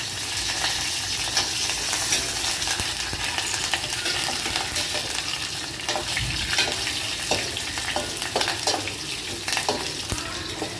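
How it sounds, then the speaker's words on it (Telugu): A village-style tempering of dried red chilies, small onions and curry leaves frying in oil for amaranth-leaf pulusu, with a busy crackling sizzle and frequent stirring clatter throughout, no speech. "ఎండుమిర్చి, చిన్న ఉల్లిపాయ, కరివేపాకు వేసుకొని తిరగమాత వేసుకోవాలి"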